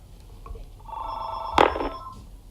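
A telephone rings once, indoors and fairly quiet, a bright electronic tone building to a short sharper peak, with no talking.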